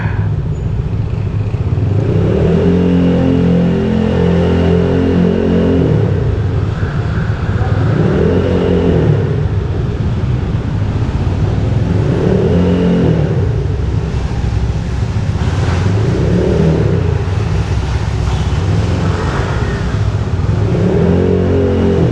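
A Honda Click i125 scooter rides through a basement car park, its engine droning steadily and swelling in repeated revving waves, loud and close with wind rush over the microphone throughout.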